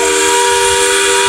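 A small steam train at a railway workshop festival sounds its whistle, a loud continuous hissing tone with a strong steady pitch held for the whole moment, close up.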